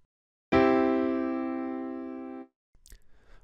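A single major triad rings out as one sustained, harmonically rich chord, struck cleanly and decaying steadily for about two seconds before cutting off, followed by faint rustling.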